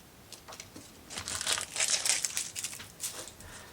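Crinkly, crackling peel of a protective film or backing sheet coming off dollhouse kit parts, swelling into a dense run of close crackles in the middle and easing off at the end, with no talk.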